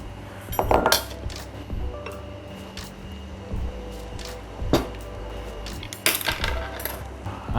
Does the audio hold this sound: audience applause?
no